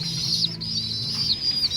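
Racing pigeons at a derby lap in Del Gallego, Camarines Sur, heard as a steady chorus of soft cooing and bird calls, close and continuous with brief bright chirps, without talk.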